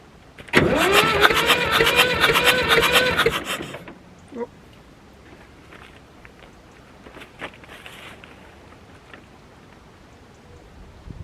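A David Brown 1394 tractor, abandoned and being revived, cranks loudly for about three seconds with a dense rhythmic starter churn that fails to catch, then cuts out, leaving faint clanks and quiet shuffling.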